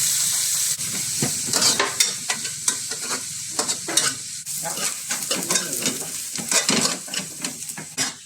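Chopped onions sizzle and fry in a hot pan while a spoon stirs and scrapes through them in irregular strokes, close and steady, with no talking over the cooking.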